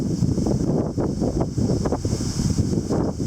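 Gusty early-winter wind buffets the microphone outdoors in steady, loud rushes with slight surges, with no voices heard.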